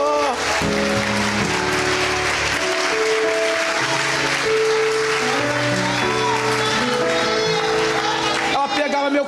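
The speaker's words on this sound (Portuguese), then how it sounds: "aplauda o Senhor." A church congregation applauding during a service, a steady wash of clapping under loud sustained music and voices that runs throughout before dropping off at the very end.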